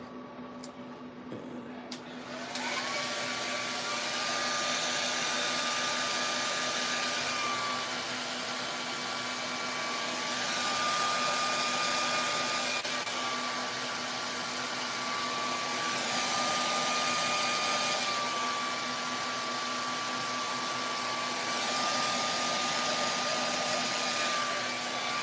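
Hair dryer used to dry paint on the eyes of a 3D-printed model. After a brief clatter it switches on and whines continuously at close range, its pitch gently wavering throughout.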